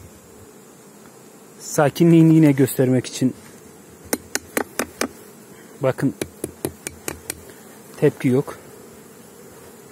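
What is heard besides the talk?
Carniolan honey bees buzzing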